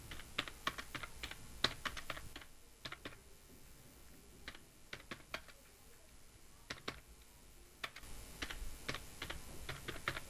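A computer keyboard is typed on steadily while writing Bangla with Avro Keyboard software, making rapid, close clicking keystrokes that continue throughout with brief breaks and no voices.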